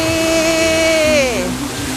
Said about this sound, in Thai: มีเสียงเพลงครอเบาๆพร้อมกับเสียงน้ำตก